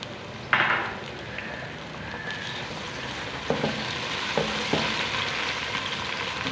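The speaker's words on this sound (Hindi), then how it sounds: "एक मिनट के लिए अच्छे से भुनाई कर लेंगे" Whole garam masala frying with garlic ginger paste over onions in a pan, a sharp sizzle bursting as it goes in, then continuous crackling hiss with a few scraping stir strokes.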